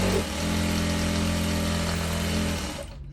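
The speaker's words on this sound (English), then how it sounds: "Let me sew and show you." Sewing machine sewing with a bias binding foot, a steady close motor whir with a humming drone that runs for a few seconds before cutting off.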